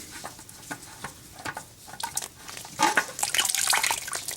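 Used engine oil from a 2010 Toyota Highlander pouring and splashing into a drain pan, irregular dripping patter that builds into a heavier, continuous slosh toward the end, close by.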